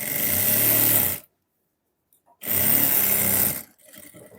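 A sewing machine stitches kameez fabric in two loud, steady bursts of about a second each, separated by a silent pause, with a fainter mechanical rattle trailing at the end.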